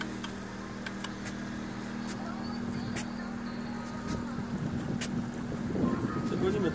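A raft drifts down a river toward Gryfino in steady wind, with a constant low hum and broad wind buffeting the microphone that swells slightly toward the end.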